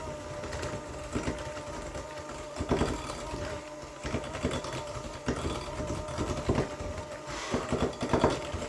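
An electric mixer whirs through pumpkin cookie batter in a kitchen, its motor hum pulsing irregularly as the beaters churn, close and moderately quiet.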